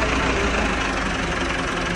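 A tractor engine runs in a steady, loud, continuous drone at close range, alone without any voices.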